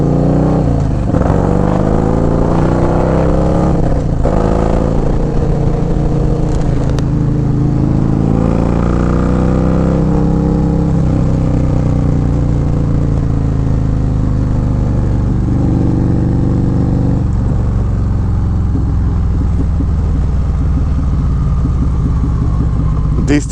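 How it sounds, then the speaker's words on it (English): A Harley-Davidson performance bagger with a 475 cam runs with its characteristic choppy, loping engine note, loud and close throughout, rising and falling with throttle as the bike is ridden, with a voice talking over it at times. "That chop sound is so distinctive on a 475 cam."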